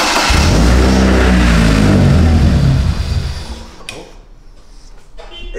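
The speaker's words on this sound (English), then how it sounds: "we're ready to go for the inaugural exhaust test" A BMW E36 drift car's newly fitted exhaust roars loudly close by, its engine revving up then dropping away as the sound fades, followed by a few faint clicks and clatters.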